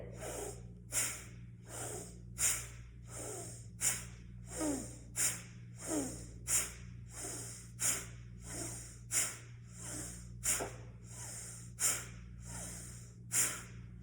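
Bhastrika pranayama bellows breathing: a steady series of about fifteen forceful, sharp nasal breaths, roughly one per second, close and clear over a low constant hum, with no talking.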